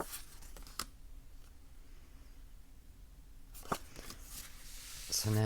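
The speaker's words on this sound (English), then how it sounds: "go ahead and shuffle these. And they shuffle beautifully." Soft crisp riffling of tarot cards being shuffled in quick bursts, close and quiet, with a few sharp taps and a louder flurry near the end.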